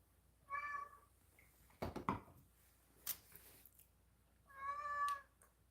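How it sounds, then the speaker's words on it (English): A cat gives two drawn-out, mournful meows, one near the start and another near the end, separated by a few soft clunks and knocks in an otherwise quiet room. "Oh, mournful meows. So full of sadness and sorrow."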